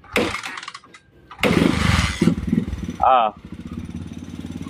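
A motorcycle with a reported fault that makes it give small shocks is kicked over and starts, its engine settling into a low, steady idle, while people talk nearby over the running motor.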